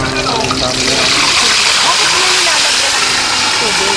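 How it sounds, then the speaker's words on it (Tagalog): Loud, continuous frying sizzle with a dense crackle of pork skin popping in hot oil, close up. "Pag na pong namumutok yung balat."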